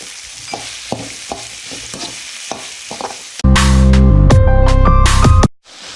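Vegetables sizzling and frying in a pan as green and yellow capsicum are stirred in, with soft scraping stirs at first, then a loud, steady hiss of frying that cuts off abruptly.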